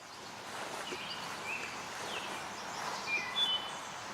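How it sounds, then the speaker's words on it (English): Robins and a catbird in a wildlife area give faint, distant chirps and short calls now and then, scattered over a steady outdoor hiss with light rustling. "I hear some robins."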